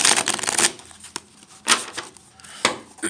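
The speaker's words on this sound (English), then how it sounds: "so let's do a shuffle real quick." Tarot cards are shuffled by hand in quick riffling bursts, a loud flurry at the start followed by several shorter slaps and rustles, close and crisp with no talking.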